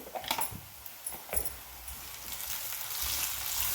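Onions and ginger garlic paste frying in a pan for aloo curry, a close sizzle with a few sharp stirring clicks early on, the hiss building steadily louder.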